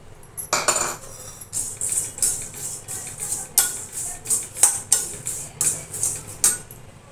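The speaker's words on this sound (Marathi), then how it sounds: "आता आपण हे पोहे आणि डाळ भाजून घेऊया एका जागेवर. दोन्ही एकत्रच भाजायचे आहेत." A metal spatula scrapes and clinks repeatedly in a pan while poha and dal are dry-roasted together, making a steady rhythm of close, bright scraping strokes with no talking.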